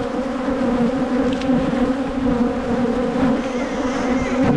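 Honey bees swarm around ranch bee huts during a hive inspection, a dense, steady, close buzzing drone that fills the whole stretch without letup and with no talking.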